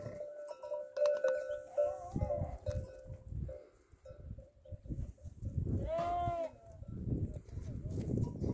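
Several sheep and lambs bleat close by on a farm, lambs suckling, their calls rising and wavering over farmyard rustling, with one long quavering bleat near the end.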